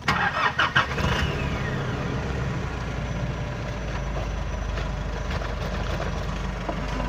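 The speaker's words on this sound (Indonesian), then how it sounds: "Untuk starter mobil sendiri kayak gimana? Nih, starternya kayak gini aja nih." A 2015 Nissan Navara 2.5 VL diesel pickup with manual gearbox cranks briefly and fires up, then settles into a loud, steady, clattering diesel idle heard close inside the cab.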